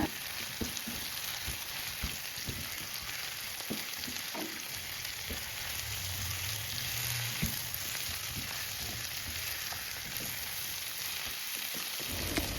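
Sliced tempe stir-fries with salt, seasoning and spices, a soft continuous sizzle with scattered scraping stirs throughout, moderately quiet, no talking.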